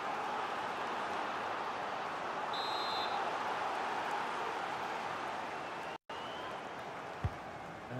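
Stadium crowd noise from a football video game match between Netherlands and Scotland on PS5, a steady broad roar held at even loudness throughout, with a brief dropout near the end.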